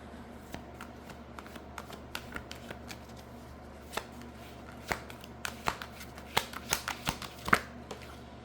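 Oracle cards are shuffled by hand in a steady run of crisp riffling flicks and taps that grow denser and louder toward the end, close and alone with no talk.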